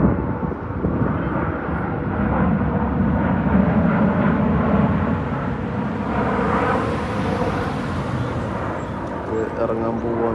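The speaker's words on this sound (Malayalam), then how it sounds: "ഇറങ്ങാൻ പോവുകയാണ് കേട്ടോ, ലാൻഡിങ്" A Flydubai passenger jet comes in to land at Dubai airport with a loud, sustained engine roar that swells and holds for about ten seconds, heard from nearby on the ground.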